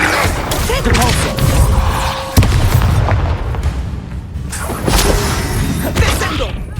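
A Depulso force spell in the Hogwarts Legacy video game, a loud booming blast with crashing impacts amid a dense, noisy battle, mixed with shouting.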